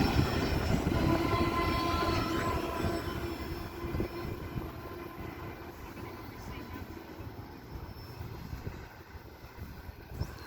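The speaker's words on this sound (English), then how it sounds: "And here's the end of the train." A train rolls past at Belmont Station, a steady rumble and wheel noise that slowly fades as the last cars go by, with a faint horn-like tone in the background.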